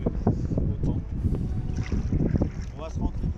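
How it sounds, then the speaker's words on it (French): Wind gusts roaring across the sea off Wimereux while kayaking, a steady rumbling blow buffeting the microphone, with water sloshing against the boat and people talking intermittently over it. "le vent il monte là"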